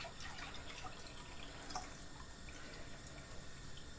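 Melted beeswax poured into a nettle balm mixture gives a steady, close liquid trickle with small drips and splashes, continuous and moderately faint with no voices.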